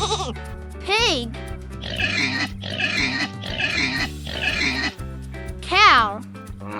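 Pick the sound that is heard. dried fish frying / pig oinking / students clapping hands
pig oinking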